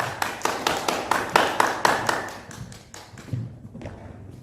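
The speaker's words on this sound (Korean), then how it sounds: "박수로 함께 환영하겠습니다" Applause from a church youth gathering audience welcoming a young speaker, a short burst of dense clapping that fades after a few seconds, with a thump near the end.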